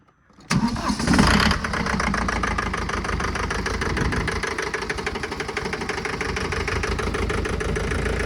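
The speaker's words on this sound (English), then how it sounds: "So now we go ahead and start the tractor." A John Deere 4720 compact diesel tractor engine cranks and catches with a loud roar, then settles into a steady, rattling low idle close by.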